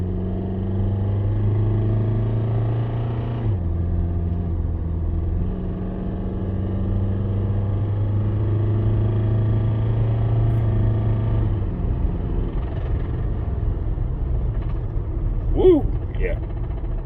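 A worn car engine pulls under acceleration, its droning note rising and dropping through gear changes, with someone talking over the rumble throughout.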